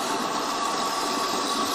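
A kitchen blender runs steadily, emulsifying coconut ajoblanco with cheese and coconut milk like mayonnaise, a constant loud whirring drone with no pauses.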